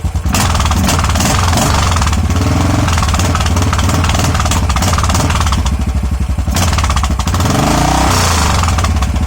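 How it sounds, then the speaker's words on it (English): A Royal Enfield GT535 motorcycle single-cylinder engine fitted with a K&N air filter revs hard and loud for several seconds, a dense continuous roar with a brief dip and rise in throttle near the end. "Give it a quick heat up, give it a quick rev."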